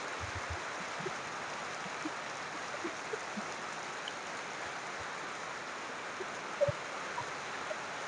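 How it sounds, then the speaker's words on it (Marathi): Heavy torrential rain pours down at night in front of a shop. It makes a steady, dense hiss throughout, with a few faint low knocks. "अतिशय जोरदार पाऊस धोके परिसरामध्ये लाईव्ह हो अतिशय तुफानी पाऊस चालू आहे"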